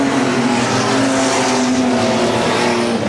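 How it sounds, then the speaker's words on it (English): Race cars roar steadily on a race track, a loud continuous engine drone with sustained tonal whine throughout, no pauses or talk. "Avens comes out of turn 4, still out in front. In car number 11, Frank Coulker in 7 runs second."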